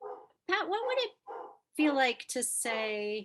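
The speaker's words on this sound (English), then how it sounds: "I apologize for my dog barking in the background." A dog barks in the background while a person talks over it; the barks are short, mid-distance, and partly masked by the close voice.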